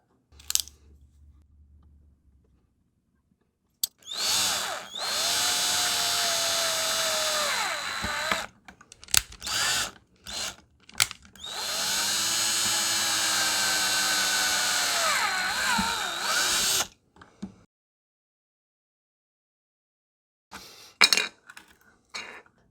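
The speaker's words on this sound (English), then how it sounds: "Okay, now that all the holes are drilled" A power drill bores holes into the plastic housing of a Splatrball SRB1200 gel blaster, with two long, loud, steady runs of whining motor and grinding, separated by short bursts and a few brief later spurts.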